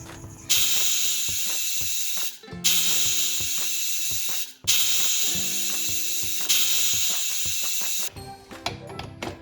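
A pressure cooker cooking lima bean rice on a high gas flame whistles four times in a row, each loud, steady hissing blast lasting about two seconds, with short gaps and a rattling weight between them.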